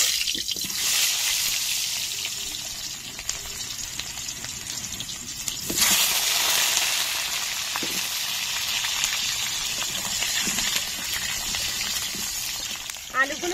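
Vegetables frying in a pan for khichuri give a steady, moderately loud sizzle that runs for the whole clip, rising a little around the middle as more vegetables hit the oil, with a voice speaking now and then.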